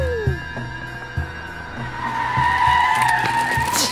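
Tires squeal as a car skids in a Sonic the Hedgehog video game, a sustained screech wavering in pitch over engine drone and rhythmic thumps, loud and close throughout.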